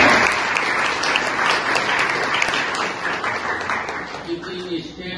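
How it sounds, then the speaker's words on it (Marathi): A large crowd claps loudly and steadily for two folk singers of the shahiri ballad tradition at a college Shivaji Jayanti celebration, with a voice talking over the applause before it thins out near the end. "यांना आपण जोरात टाळ्या वाजवून त्या पाईकाची"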